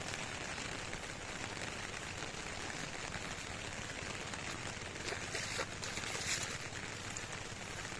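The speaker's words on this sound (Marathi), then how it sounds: "पाऊस खूप येतो, मरणाचा पाऊस पडता." Heavy monsoon rain pours down steadily on a Konkan morning near a village waterfall, a dense, unbroken hiss of drops on surfaces, loud and even throughout with no voices.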